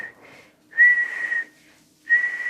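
A person imitates by mouth the whistling, beep-like exhale of a haenyeo diver surfacing, with three short, shrill whistles, the first faint and brief and the next two louder and longer, close and clear.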